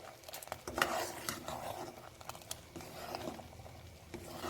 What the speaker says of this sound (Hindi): तो बस आप मुसलसल चम्मच हिलाते जाना है